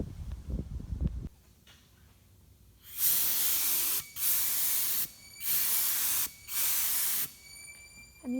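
Epoxy primer sprayed onto 1955 Pontiac Chieftain front seat corner protectors to prevent rust, heard as four steady hissing bursts of about a second each separated by short pauses, loud and close, after a quieter stretch with some handling knocks.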